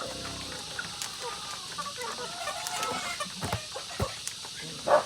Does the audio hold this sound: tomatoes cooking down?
no